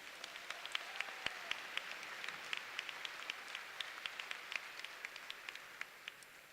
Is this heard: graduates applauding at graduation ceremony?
yes